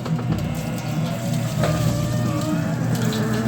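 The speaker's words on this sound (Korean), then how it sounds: "물 졸졸 좀 뿌려봐요" Water trickles and splashes steadily while rinsing out residue, a continuous soft hiss over a low hum with no pauses.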